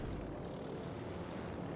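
Fighter planes launching in a naval battle game give off a faint, continuous propeller drone, steady and distant, with no other sounds.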